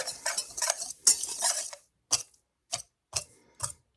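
Dry rice seasoning with garlic powder mixed in a jar or bowl: a second or two of continuous gritty scraping, then four separate short clinks, close and alone.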